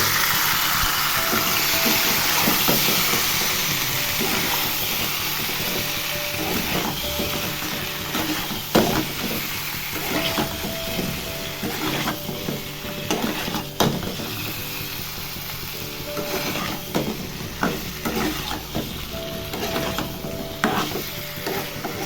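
Potato balls fry in a pan for a Korean-style aloo dum, with a loud, continuous sizzle broken by frequent close scrapes and knocks of stirring.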